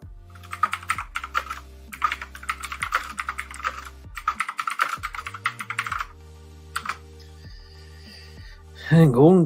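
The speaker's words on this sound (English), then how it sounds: "you hear my damn keyboard" Computer keyboard keys clattering in quick, uneven bursts close to the microphone, with a brief pause before a louder, tonal burst of sound at the end.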